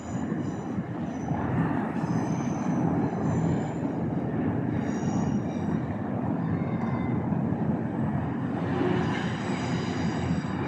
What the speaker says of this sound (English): now you've seen the train going across